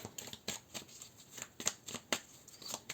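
Tarot cards are shuffled and set down in a quiet room, a quick run of soft, crisp riffles and slaps that is close and faint, with no voices.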